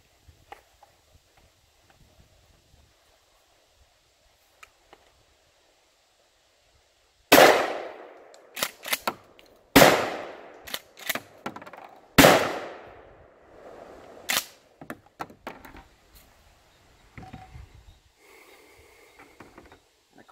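Three loud, sharp shots crack out in quick succession from a firearm fired outdoors at a range, each with a ringing decay, followed by fainter clicks and handling noises and a quieter report near the end.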